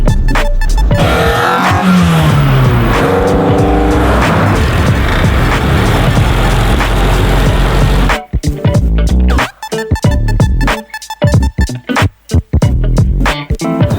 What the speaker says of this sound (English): just driving a car with Liam Neeson's all over it